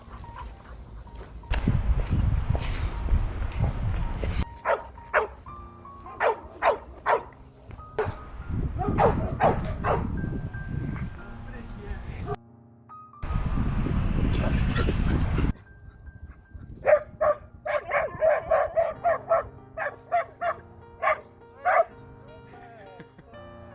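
Rescue dogs in search-and-rescue training bark in repeated loud bursts, some high yips and whimpers among them, mixed with stretches of noisy activity and pauses.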